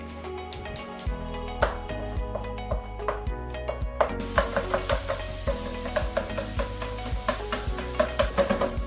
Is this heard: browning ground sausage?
yes